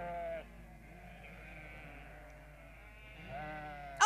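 Sheep in a cartoon farmyard bleat in soft, wavering cries, one at the start and another near the end, faint over a quiet background with a brief louder sound at the close.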